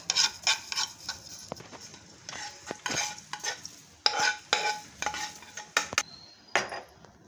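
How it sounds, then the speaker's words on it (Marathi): White sesame seeds dry-roasting in a pan over a low flame for dryfruit laddoos, a busy scraping and stirring clatter with spatula strokes and faint crackle, close and steady, with no talking. "पांढरे तीळ भाजून घेऊयात। हे पण जास्त नाही भाजायचे"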